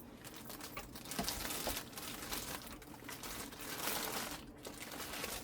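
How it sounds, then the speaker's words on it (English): Paper is peeled off a resin fume filter with continuous faint crinkling and tearing, soft rustles running throughout at close range. "And then you take your paper off of your filter."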